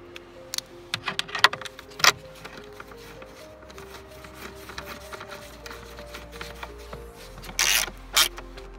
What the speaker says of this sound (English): And time to screw that back together.